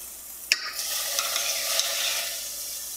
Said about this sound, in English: Peppers and onions have sauteed down, and we're adding ground beef.